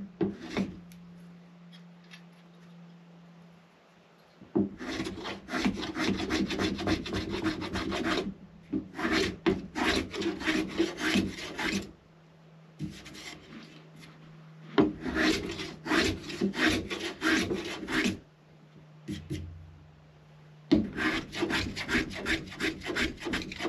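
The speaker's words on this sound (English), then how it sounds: "I'm just planing this a little bit selectively here" Block plane shaving a wooden guitar neck blank in bursts of rapid strokes separated by short pauses, close and crisp with a low hum underneath, no talking.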